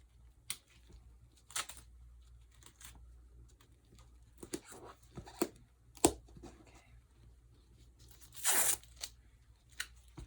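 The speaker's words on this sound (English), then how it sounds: "Just tape it so that it's secure enough." Tape is torn off the roll to secure something, with short ripping bursts scattered across a quiet room. One longer, louder rip comes near the end.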